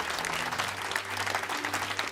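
Audience applause at an event, a thick continuous patter of clapping from many people over a low steady hum from the room.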